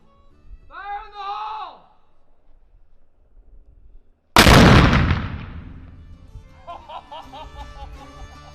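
A small museum cannon at a fort fires a blank in one sudden, loud boom that rings out and decays, preceded by a brief shout and followed by voices and laughter.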